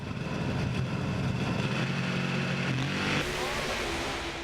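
Nitrous-fed drag race cars launch off the starting line with a loud, continuous engine roar whose pitch climbs steadily as they pull away.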